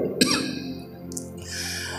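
A single harsh cough bursts out near the mic, followed by a quieter throat-clearing rasp, indoors with no speech.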